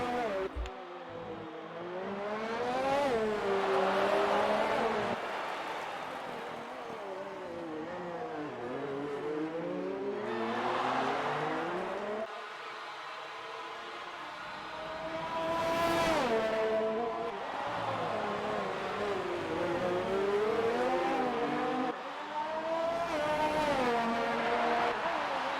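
Racing cars in a Singapore GP online sim race, engines whining and rising in pitch as they accelerate, pass and overtake, one car after another sweeping through with steady mid-level loudness and no talk.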